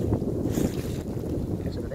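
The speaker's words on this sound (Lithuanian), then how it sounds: "bet toks nesveikas vėjas" Strong gusty wind of about 20 m/s while a trampoline is being dismantled outdoors, a loud steady roar buffeting the microphone throughout.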